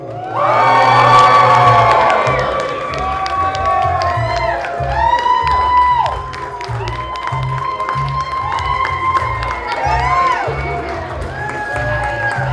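A large crowd cheers, whoops and shouts loudly and continuously at a steampunk fashion show as models come on stage, with children's shouts mixed in and an announcer's voice over the top.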